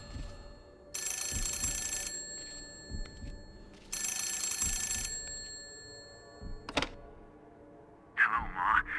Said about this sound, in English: Oh, let's go answer the phone.